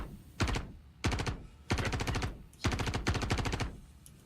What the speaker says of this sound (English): Should be targeting right here where I'm shooting with my gun.